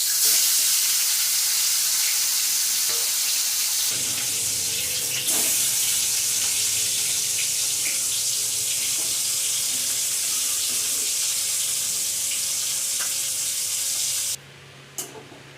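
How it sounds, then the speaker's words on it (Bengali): Tilapia fish frying one piece at a time in hot mustard oil in a wok, a loud continuous hissing sizzle that swells after a few seconds and drops off sharply near the end, no voices. "এবার একটা একটা করে মাছ ভেজে নিচ্ছি।"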